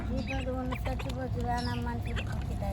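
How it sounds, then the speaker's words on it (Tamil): Ducks quack repeatedly in the background while people talk nearby, with a busy outdoor hum underneath. "யாரது வாத்து இது தீபாதா"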